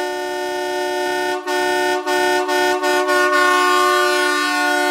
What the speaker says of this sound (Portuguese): Aqui foi instalada a marítima dupla